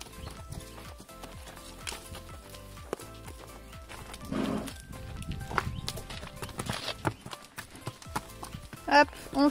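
Pony hooves clip-clopping on a hard yard surface during a hoof-care session, a steady run of close taps with a brief whinny-like burst later, under background voices and movement.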